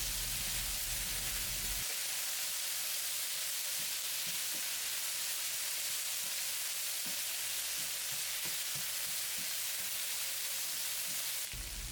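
Onions stir-frying in a pan with oyster sauce for Korean-Chinese jajangmyeon: a soft, continuous hiss of sizzling with scattered light clicks and taps of stirring, steady and moderately quiet the whole way.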